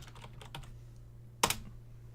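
Faint, sparse keystrokes on a computer keyboard during a modded Minecraft Project Ozone Lite session, a couple of soft taps followed by one sharper click over a low steady hum.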